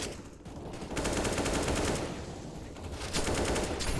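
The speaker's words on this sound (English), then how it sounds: "Shots exchanged towards mid." Gunshots exchanged on Dust 2 in a Counter-Strike match, heard as bursts of rapid automatic fire that swell and fade across the clip, fairly close and loud, with no voices.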